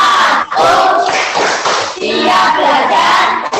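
A school class in a lesson on human digestion claps a short rhythmic chant together, loud group voices shouting in unison over patterned clapping in quick bursts.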